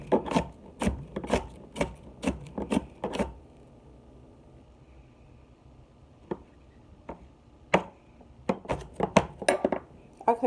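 A knife chops an onion on a cutting board in a home kitchen, a quick run of sharp evenly spaced knocks, a pause, then scattered cuts resuming. The clip holds no speech.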